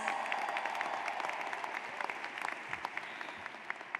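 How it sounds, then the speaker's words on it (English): A commencement audience claps steadily at a university graduation ceremony, producing a dense, even wash of applause that stays moderately loud throughout and thins slightly toward the end. "Give yourselves another round of applause"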